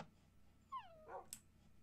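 Dogs in the video game Minecraft whimper in a short run of rising-then-falling whines, close and fairly clear over a faint background hum.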